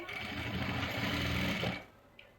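A sewing machine stitches a dhoti salwar, its needle running in one fast, steady mechanical whir close by for under two seconds before stopping abruptly.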